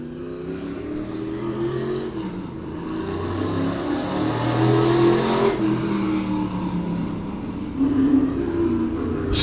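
Race car at Claremont Motorsports Park accelerating onto the green flag, a steady engine roar that builds and surges as it approaches, loud and continuous with no talk.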